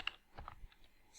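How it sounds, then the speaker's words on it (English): Keystrokes on a computer keyboard as a web address is typed, a quiet series of soft clicks in quick succession, close and alone. "So we are going to enter the URL of Python by typing"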